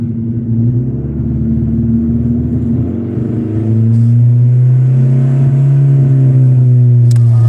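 A car engine with its check engine light on idles with a deep, loud rumble. Partway through it revs up to a higher, stronger drone and holds there, close to the listener and with no talking.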